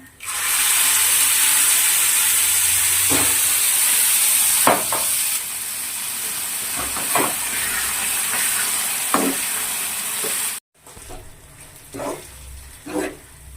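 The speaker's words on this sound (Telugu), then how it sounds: "తాలింపు వేసేసాను టమాటా పచ్చడి" Steady loud sizzling of a tempering in hot oil for tomato chutney, with a bright hiss, then a brief cut and quieter sizzle with occasional clinks of a utensil.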